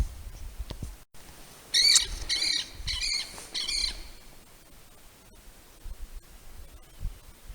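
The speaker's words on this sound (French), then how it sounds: "Écoutez celui-là, le petit oiseau là." A small bird calls near a mountain in spring, giving a short burst of four or five rapid, bright chirps in quick succession, then falling quiet against a faint outdoor hush.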